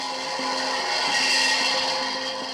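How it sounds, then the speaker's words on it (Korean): A loud, steady blender whir, a recording played through a speaker at boosted volume as deliberate noise, with an evenly repeating pattern, played continuously without a break. "녹음한 믹서 작동 소리를 연속해서 재생하고 있는 거랍니다."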